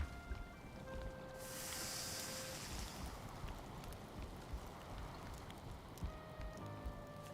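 Blustery wind in the video game Valheim, a steady broadband rush with a stronger gust early on, faint tonal in-game chimes drifting over it, and no talking.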